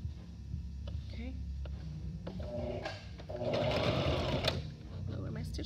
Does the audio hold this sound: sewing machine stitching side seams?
yes